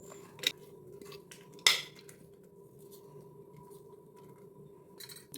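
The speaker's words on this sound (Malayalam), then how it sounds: "സവാളയും ഉള്ളിയും ചെറുതായി അരിഞ്ഞത് ഞാനൊരു കുക്കറിലോട്ടാണ് ഇട്ട് കൊടുക്കുന്നത്" Chopped onions and shallots dropped into a steel pressure cooker in a home kitchen for Kerala-style egg curry, giving two sharp metallic clinks and a faint scrape against a quiet room hum, with a soft clatter at the end.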